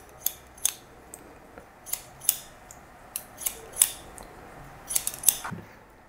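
Scissors snipping hair during a men's scissor haircut in a barbershop, a series of crisp, close snips spaced irregularly, each short and sharp against a quiet room.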